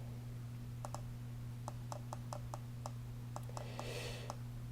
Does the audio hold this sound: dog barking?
no